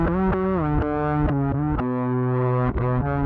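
Fretless bass played through a Behringer TO800 vintage tube overdrive pedal, sliding notes with a gritty mid-range growl, several plucked tones gliding between pitches, loud and close with no talk.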